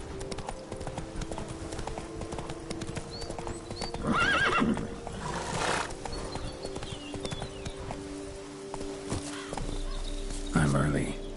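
Geralt's horse Roach gallops in The Witcher 3: Blood and Wine, with steady hoofbeats, a couple of neighs and snorts over game ambience and distant bird calls.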